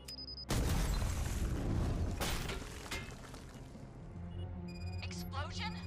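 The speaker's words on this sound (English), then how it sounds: "Explosion?" An explosion goes off in Robocop: Rogue City as a sudden loud boom that sustains a dense rumbling roar and debris crackle, then fades under game sounds and a voice talking.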